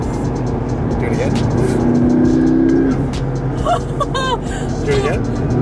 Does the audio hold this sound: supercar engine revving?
yes